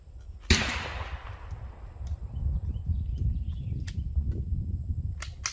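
A single sharp report from an air rifle or Ruger 10/22 rifle cracks out near the start, fading into a low rumbling outdoor background with a few faint clicks.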